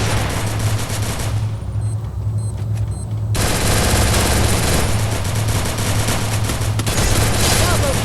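Free Fire gameplay fills with loud, dense bursts of rapid automatic gunfire, briefly dropping to a quieter stretch before the continuous firing resumes at full intensity.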